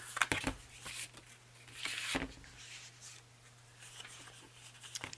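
Scissors snip and rustle through paper pieces for a handmade journal, close and quiet, in scattered short cuts and crinkles.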